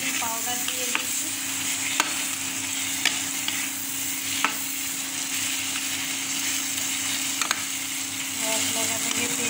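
Banana flower stir-frying in a pan with spices and Kashmiri red chili powder on an induction cooktop, a steady close sizzle broken by sharp clicks and taps of the spoon, with a faint hum beneath.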